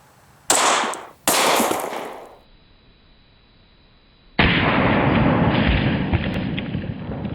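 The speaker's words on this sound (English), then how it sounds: "put a round in there and see what it does against this full metal jacket" A round fired from a gun into an NIJ Level II ArmorShield Puma vest: two loud sharp blasts with a ringing decay, a short quiet gap, then a sustained loud broadband rush.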